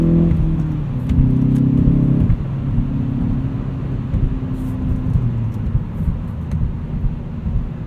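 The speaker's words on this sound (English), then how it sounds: "Makes a little bit of a throaty noise with just a faint hint of turbo whistle in the background" A turbocharged 2016 Hyundai Veloster Turbo Rally Edition engine revs and pulls through the gears with a throaty drone and faint turbo whistle, loud and close, no talking.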